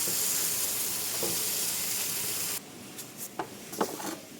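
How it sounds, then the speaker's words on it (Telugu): Eggplant frying in a pan gives a loud, steady sizzle and hiss that cuts off sharply partway through, followed by a few quiet clicks and stirring sounds. "ఇప్పుడు మనం వంకాయల్ని ఫ్రై చేసుకుంటాం."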